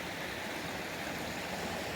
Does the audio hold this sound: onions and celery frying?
no